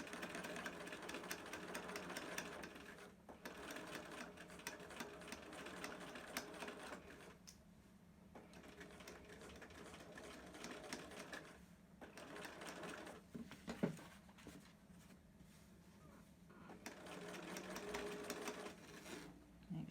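A sewing machine runs in quick rhythmic bursts while back stitching fabric for a zipper pouch, with short pauses between stretches of stitching, close and fairly quiet.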